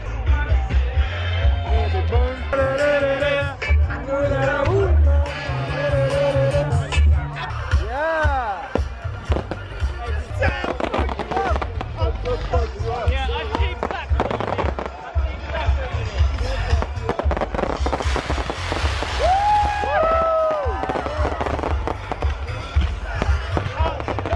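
Fireworks at a Fourth of July party at an ambassador's residence: a dense, continuous run of bangs, crackles and whistling rockets with people cheering and talking throughout.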